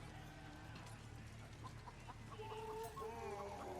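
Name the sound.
bird clucking in video game Baldur's Gate 3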